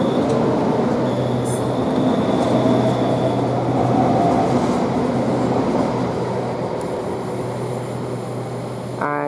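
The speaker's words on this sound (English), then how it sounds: "this Southeastern train, the 11:57, leaving a minute late" A Southeastern passenger train pulls out of Rochester station a minute late, a continuous loud rumble and rolling drone that holds steady throughout, with a faint higher whine and a brief clatter near the end.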